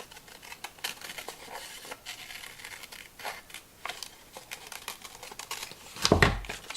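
Scissors cut a printed paper image for a mixed-media textile art doll. A quiet, close, continuous snipping and rustling of paper ends in a louder crinkling burst.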